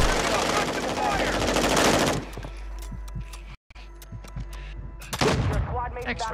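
Video game gunfire: a dense burst of automatic fire rattles loudly for about two seconds, followed by scattered single shots and a fresh volley near the end.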